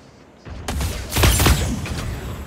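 Gunfire in the mech shooter Super Mecha Champions erupts after a quiet start as a rapid, loud burst of shots, peaking around the middle and then trailing off into rumbling noise.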